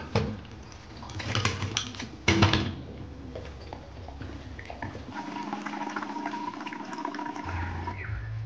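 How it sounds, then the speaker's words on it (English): Water gushes and splashes into an empty gas bottle being filled to purge the gas, with a few clattering knocks early on and a steady pouring rush afterward. "fill the bottle with water to purge out any gas"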